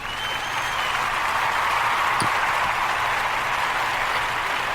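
Steady crowd applause as a canned sound effect, a continuous dense clapping wash at even volume for nearly five seconds with no voice over it.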